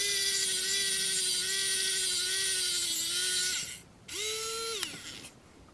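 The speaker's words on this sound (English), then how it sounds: "So we'll go ahead and drill a hole." A small power drill bores a hole into the shell of a Kato P42 model locomotive, giving a steady high whine for several seconds, then a brief pause and a shorter second burst.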